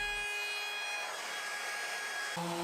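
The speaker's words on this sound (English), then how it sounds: "Next I'm going to use a round over bit in my router to round over the front edges of the plaque." A woodworking router fitted with a round-over bit rounds the front edges of a wooden plaque, giving off a steady, close, high-pitched motor whine that holds throughout and shifts in tone briefly at the end.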